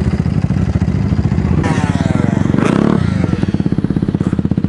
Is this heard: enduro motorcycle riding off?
yes